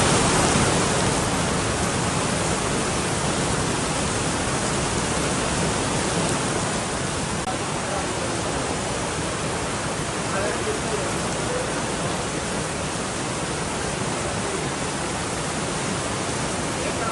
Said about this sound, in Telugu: ఇక హైదరాబాద్ వ్యాప్తంగా వర్షం దంచుకొడుతోంది.